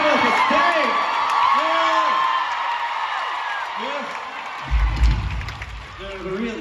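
A concert crowd in Chicago cheers, whoops and screams in a dense, loud wash, with a swell of applause midway, while a voice talks over the noise.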